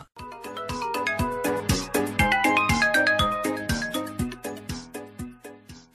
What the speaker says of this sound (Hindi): अरे कब से फोन की घंटी बज रही है